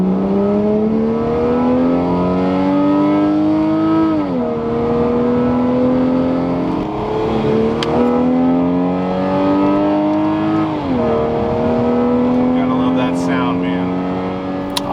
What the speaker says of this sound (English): who doesn't like the sound of a good turbo 2JZ engine?